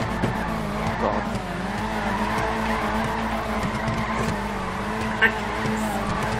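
A BMW drifting in the GTA 5 video game, its tires skidding and squealing in one steady, unbroken stretch over a constant engine drone, with one brief sharp spike near the end.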